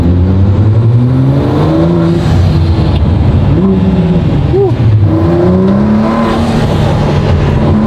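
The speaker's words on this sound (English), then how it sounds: "It's like a throaty V8." A Ford GT V8 engine revs loudly and close, its throaty note rising and falling in several sweeps over a constant roar, with no one talking.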